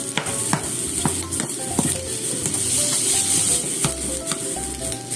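Reheated mochi barley and rice are stir-fried with kimchi in a pan, a continuous close sizzle with repeated scraping and clacking of a utensil against the pan.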